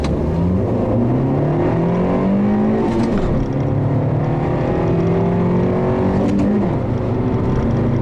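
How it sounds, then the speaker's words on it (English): A 2012 Fiat 500 Sport's small engine revs up loud and close, its pitch climbing through several gear changes with brief dips between shifts. "the engine is actually surprisingly refined. It gives you a decent noise"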